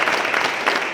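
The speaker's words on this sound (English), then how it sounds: "A round of applause, come on." A crowd applauds at a property-tax talk in Zanesville, Ohio: a short, loud burst of dense clapping with no voices over it.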